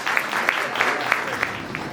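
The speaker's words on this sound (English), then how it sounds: "One round of applause for Jamie." An audience at a Michigan Air National Guard event gives a round of applause, a modest crowd clapping steadily with a few sharper nearby claps standing out, moderately loud.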